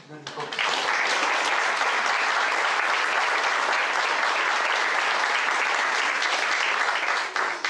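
Audience applause at a program bursts in after a brief moment and continues as a thick, even roar of clapping for several seconds, dipping slightly at the very end.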